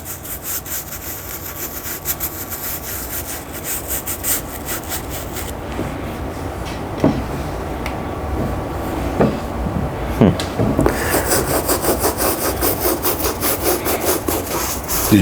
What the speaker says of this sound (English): I'm just going to record you scrubbing